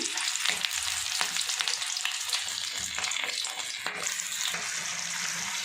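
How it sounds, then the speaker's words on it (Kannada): Sweet corn gobi batter drops bit by bit into hot oil and sizzles steadily, with close, continuous crackling and bubbling and occasional faint clinks. No one speaks. "ಎಣ್ಣೆ ಕಾದಿದೆ ಈಗ ಇದನ್ನು ಉದುರುದ್ರಾಗಿ ಬಿಡಬೇಕು ಈ ಥರ ಸ್ವಲ್ಪ ಸ್ವಲ್ಪನೇ"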